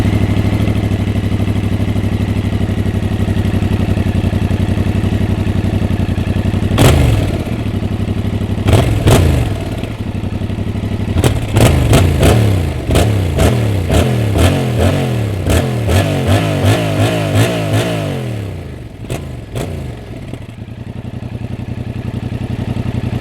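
A 2021 Yamaha Tracer 7 motorcycle engine idles loudly, then takes a series of sharp throttle blips and revs through the exhaust before settling back to idle, with no voices.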